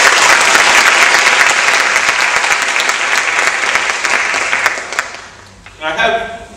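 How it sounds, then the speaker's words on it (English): Debate audience bursts into loud, dense applause that holds steady, then thins and fades toward the end with a brief swell. "please give your applause"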